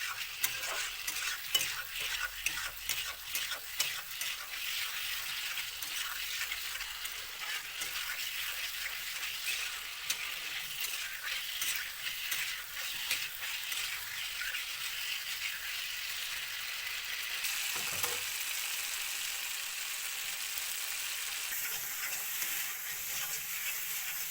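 Soybean chunks stirred and fried in a pan, a steady loud sizzle with repeated scraping of the spoon against the pan throughout, no voices.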